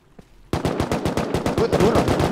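Loud automatic gunfire in the video game Rust, bursting in suddenly after a faint quiet moment and continuing as a fast, dense string of close shots.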